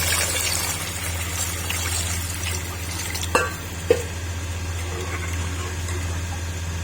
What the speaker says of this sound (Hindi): आधा किलो आलू थे और 1 लीटर हम पानी ऐड कर देंगे।